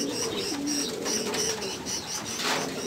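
Racing pigeons returning to their loft after a race coo steadily in a soft, repeating rhythm, close by and moderately loud, with no clear talk.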